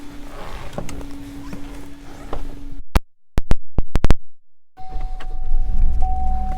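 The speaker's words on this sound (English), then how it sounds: "Power moonroof." The power moonroof of a 2018 GMC Yukon XL runs on its motor with a steady whirring hum, breaks into a few sharp mechanical clicks, then resumes humming, all close and clear.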